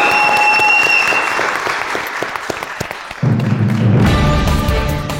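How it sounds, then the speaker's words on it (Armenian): Audience applause for the guests at an Armenian studio show, a dense, loud wash of clapping throughout, shifting partway into a fuller burst with a low musical swell underneath. "մի հատ ծափարենք մեր"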